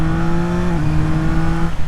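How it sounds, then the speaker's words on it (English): A 2024 Yamaha MT-09 three-cylinder motorcycle engine drones loudly up close, its induction roar channelled through intake sound grills, a steady deep roar with a buzzing tone that dips briefly in pitch. "these acoustic sound grills directly channel the induction roar right at the rider"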